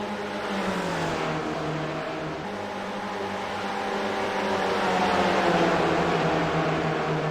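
A pack of race cars on the Charlotte oval in a sim racing game drones together in a loud, continuous blend of engines, pitch rising and falling slightly as they hold their speed, with no voices on top.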